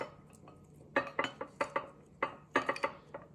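Glass shelves being set into a DIY rock display clink and tap against hard surfaces in a series of sharp, irregular clicks, close by and quiet, with no talking.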